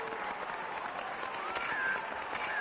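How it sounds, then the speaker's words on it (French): An audience at a live show applauds the band, a brief, fairly faint wash of steady clapping that holds evenly throughout. "Je vous demande d'applaudir très chaleureusement le groupe qui casse la baraque en ce moment."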